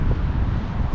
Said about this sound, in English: Still kind of windy.